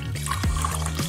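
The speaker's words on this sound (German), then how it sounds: "Ich gieße sie in den Mixer." Milk is poured into a blender, a short, close, soft liquid gurgle and splash lasting about a second, with no talk.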